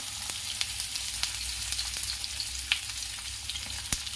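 Onion, ginger, garlic and green chili fry in hot oil with a steady, close sizzle and scattered crackling pops throughout, heard alone without talk.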